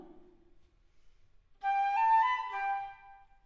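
After a moment of near-silence with a faint low sound at the start, a Baroque flute plays a brief slur-three, tongue-one figure, with smooth slurred notes then a tongued one, bright and solo.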